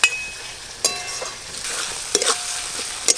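Spices for khichuri frying in a pan, with a soft sizzle under sharp, intermittent scrapes and knocks as a utensil stirs them, close and moderately loud, no voices.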